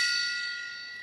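A gong struck during a livestream, heard as a bright shimmering metallic ring already sounding at the start and decaying steadily over about a second, with no voices over it.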